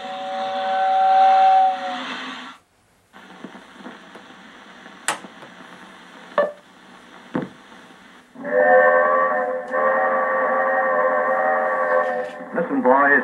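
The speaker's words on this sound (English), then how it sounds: "Notice how real and lifelike Lionel whistles are." Lionel toy train steam whistle blowing loud and close in several separate blasts, some long and sustained, others short, with brief quiet gaps between them.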